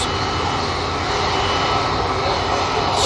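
Hainan Airlines airliner departing Manchester for Beijing, its engines giving a loud, continuous broadband roar that holds steady across the moment, nearby and dominant.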